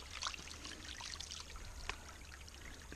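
Water tipped out of a gold pan at a creek, a continuous trickling pour with light splashing over a steady low rush of flowing water.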